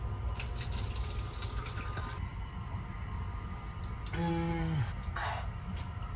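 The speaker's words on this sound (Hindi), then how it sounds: "एनीवे इसमें पानी डालते हैं।" Water pours into a container aboard a Japanese overnight sleeper train, a steady trickling fill with a rising tone near the end, heard close against a constant low rumble of the moving train.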